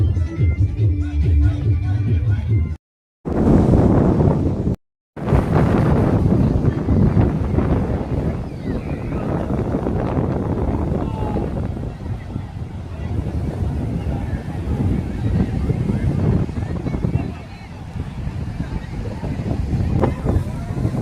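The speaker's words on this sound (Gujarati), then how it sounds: "બધું જ પાણી છે જોઈ લો. નાના નાના મોજા આવે છે." Small sea waves at the beach in Dwarka wash in over steady wind buffeting the microphone, with a person talking over the surf for most of the clip.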